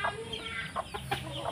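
Chickens clucking steadily around a rural yard with coconut palms, a series of close, moderately loud clucks and short calls over a light outdoor background.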